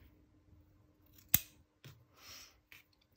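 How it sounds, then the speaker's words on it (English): Scissors trimming the yarn beard of a macrame Christmas gnome: one sharp, close snip, then a few softer cuts and rustles of fibre in an otherwise quiet room. "So we're just gonna give him a little trim."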